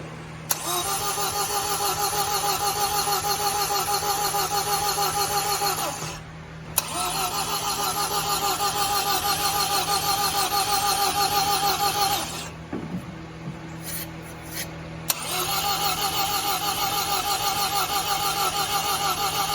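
A 1977 MGB engine cranks and churns on the starter with throttle applied, a loud, steady, repetitive whirring that stops, resumes, cuts out briefly with a short clunk, then cranks again without catching.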